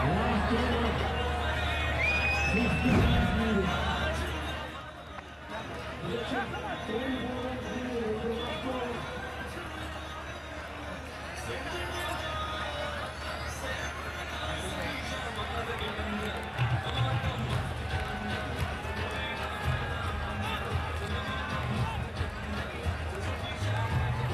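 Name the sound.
cricket crowd cheering at Hong Kong Super Sixes final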